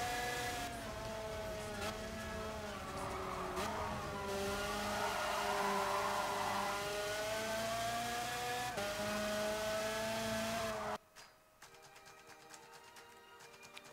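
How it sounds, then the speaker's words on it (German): A go-kart in the racing game Gran Turismo Sport drives with a high buzzing engine whine that rises and falls with the throttle, steady and close. It cuts off abruptly near the end, leaving faint game sounds. "Kart fahren könnte ich hier echt den ganzen Tag, ey."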